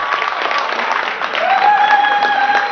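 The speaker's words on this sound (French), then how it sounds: "que je prie d'applaudir très fort, s'il vous plaît." Wedding guests applaud at a civil ceremony in a town hall, steady clapping that swells louder midway, with a faint voice and tonal sounds running underneath.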